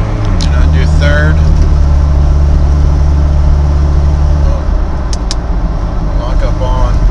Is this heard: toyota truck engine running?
yes